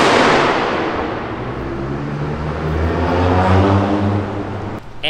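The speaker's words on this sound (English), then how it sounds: "that GTR right there, that gray, like gunmetal looking one. Holy crap, that thing is loud." A modified gunmetal grey Nissan GT-R with body kits drives by at a Sunday car meet in the Philippines, its loud exhaust roaring close and steady, rising as it passes, then cutting off abruptly near the end.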